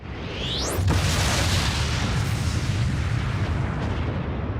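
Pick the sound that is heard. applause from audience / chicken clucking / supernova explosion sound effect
supernova explosion sound effect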